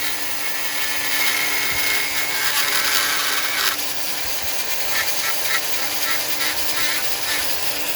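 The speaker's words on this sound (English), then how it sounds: "I'm got my pedal for this Dremel at about, I don't know, 3/4 speed." A foot-pedal Dremel rotary tool carves a wooden football charcuterie board, giving a continuous high-pitched whining grind at about three-quarter speed that holds steady and shifts slightly as the bit cuts.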